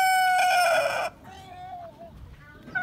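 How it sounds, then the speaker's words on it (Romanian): A brown tom turkey and two turkey hens calling on a farm, starting with a loud harmonic gobble-like cry, then a few softer, shorter yelps and clucks close by. "avem un curcan și două curci"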